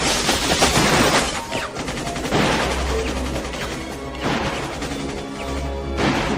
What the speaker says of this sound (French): Tire sur les fenêtres!